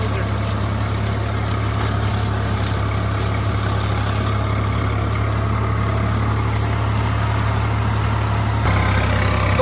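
A tractor engine runs steadily in a corn field during harvest, a loud continuous low idle-like drone with a brief shift in tone near the end, with no voices.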